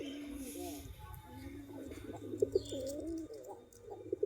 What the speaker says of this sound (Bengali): এই যে দেশি গিরিবাজ কবুতর দেখেন খোপের কাছে বসে আছে।